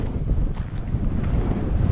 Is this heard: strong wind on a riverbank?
yes